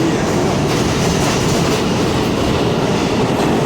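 An R32 subway car on the New York D line runs at speed, a loud, steady rumbling roar of wheels and car noise heard from inside throughout.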